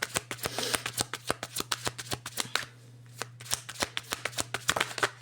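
A deck of tarot cards being shuffled by hand, a rapid series of crisp riffling slaps and flicks close up, with a brief pause midway before the shuffling resumes.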